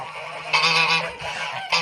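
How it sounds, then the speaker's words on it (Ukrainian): Gray domestic geese honk loudly and repeatedly in a farmyard pen, harsh overlapping calls rising in bursts close by. "Ось наші сірі гуси."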